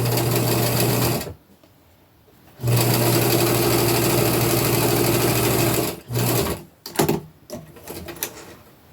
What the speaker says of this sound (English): I'm going to sew that piece on.